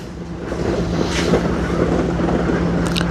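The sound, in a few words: Hookii Neomow X Pro robot lawn mower running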